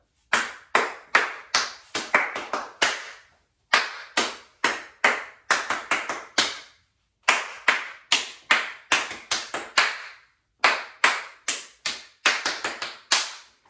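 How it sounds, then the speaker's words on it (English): Bursts of sharp hand claps pick out word rhythms in short groups, four to six claps each, with brief pauses between the phrases, close and alone. "I'm thinking the words and I'm going to clap it in my hands"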